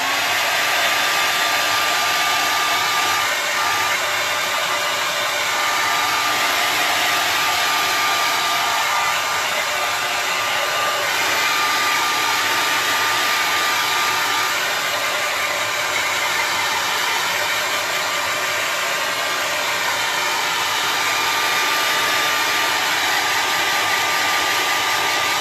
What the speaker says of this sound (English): I'm going to turn on my hair dryer just to dry this quicker.